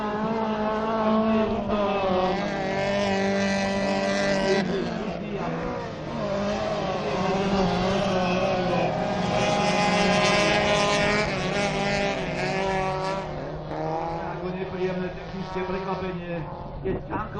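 Autocross race cars in the SAP_H1 final at Môlča roar continuously through the whole stretch, engines revving and shifting pitch, with a commentator talking over them.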